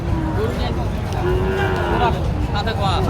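Cattle moo loudly and repeatedly at a busy cattle market in Joypurhat where high-quality Sahiwal cattle are sold, several rising and falling calls standing out over constant crowd murmur.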